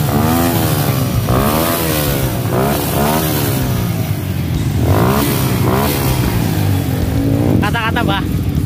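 A motorcycle rides a rough dirt motocross trail in Pemalang, its engine revving and surging in waves close by while people talk over it throughout.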